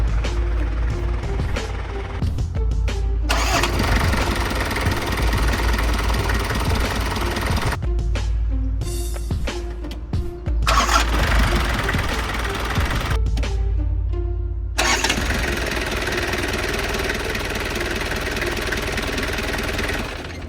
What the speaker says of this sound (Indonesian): Kita dengerin suara mesinnya.